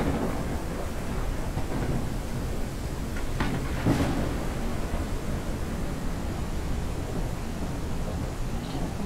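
Continuous hiss of rain from the farming video game Ranch Simulator, steady and even throughout with a brief faint crackle near the middle.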